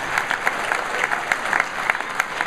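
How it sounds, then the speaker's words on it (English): Delegates at a Republican district convention give a round of applause, a sustained, even crackle of many hands with a few sharper claps standing out, steady and unbroken, with no voices over it. "Give her a round of applause."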